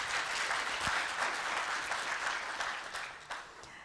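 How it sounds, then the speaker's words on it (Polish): Applause from the audience at the opening of a dairy cooperative industry forum, a sustained wash of clapping from many hands that gradually tapers toward the end. "Wielkie brawa."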